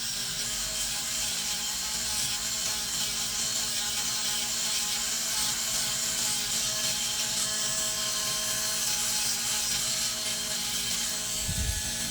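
An electric nail drill files excess gel product near the cuticle with a constant high whir that holds steady and fairly loud from start to finish.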